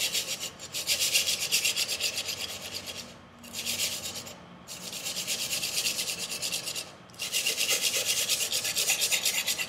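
400 grit sandpaper rasps along a cheap kitchen knife edge in long, even strokes, about four sustained passes separated by brief pauses, close and steady with no talking.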